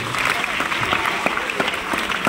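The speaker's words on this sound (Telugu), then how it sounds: "గట్టిగా క్లాప్స్ కొట్టాలి" A school crowd applauds the first-place SSC students at an award event, a dense, steady burst of many hands clapping close by.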